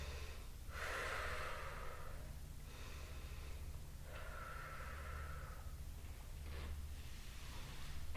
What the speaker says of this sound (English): And of course, we're breathing.